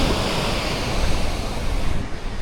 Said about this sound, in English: it's crazy hearing those waves crashing like so hard